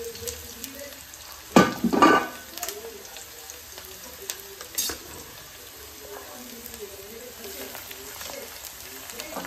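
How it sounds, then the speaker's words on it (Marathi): Browned onions sizzle and fry in a pan after ginger-garlic paste goes in for chicken biryani, a steady low crackle with a burst of stirring and clatter early on, under a speaking voice. "यामध्ये आपण आता अदरक लसूण पेस्ट ऍड करूया"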